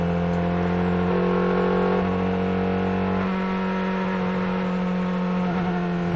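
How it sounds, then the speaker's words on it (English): A 2002 IndyCar engine at the Pikes Peak oval race howls at a steady high pitch, its tone shifting slightly as it runs, loud and continuous with no voices over it. "that engine does sound much better right there than it did a little earlier"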